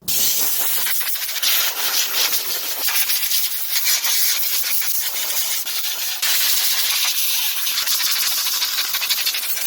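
A compressed air gun blows debris off the rear differential of an Arrma Kraton EXB RC car, a loud continuous hiss that rises and falls in short overlapping bursts for nearly ten seconds, with no speech.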